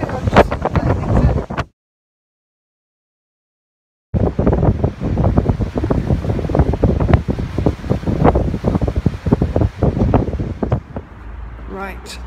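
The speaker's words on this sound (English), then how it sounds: "got halfway and decided that it's way too windy" Strong wind on a seaside pier buffets the microphone with a loud, gusting roar, broken by a brief silent gap before the blustery rush resumes.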